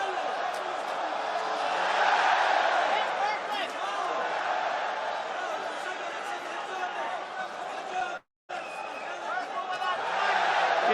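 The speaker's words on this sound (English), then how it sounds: "The Coca-Cola Arena crowd loving the work of Usman Nurmagomadov." Arena crowd at the Coca-Cola Arena roars continuously through an MMA title fight, a dense, loud wash of cheering and chatter under a commentator's voice, with a brief dropout near the end.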